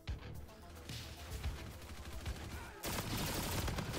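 Rapid bursts of automatic gunfire in the shooter game Call of Duty: Infinite Warfare, dense and close, swelling into a louder, harsher stretch of continuous shooting near the end.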